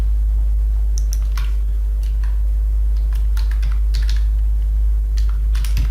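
Quick, crisp keystrokes on a computer keyboard entering a domain name, clustered taps close up over a loud constant low hum.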